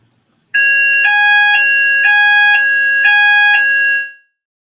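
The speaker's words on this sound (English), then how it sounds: "Fire alarm?" A fire alarm blares close and loud in a repeating two-tone electronic beep pattern for about three and a half seconds, then stops abruptly, with no talking.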